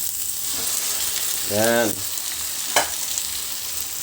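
Small squid fry for adobo with a constant close hiss and crackle of sizzling in a pan while being stirred; a voice briefly speaks over the frying.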